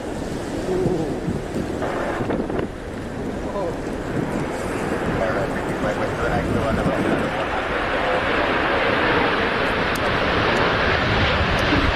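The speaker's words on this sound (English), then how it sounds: "Thrust reversers are what make that really loud noise as soon as you land." A Boeing 777-300ER in the PMDG flight simulator roars with its thrust reversers on landing, a broad, loud rushing noise that builds and holds steady, with talk faintly over it.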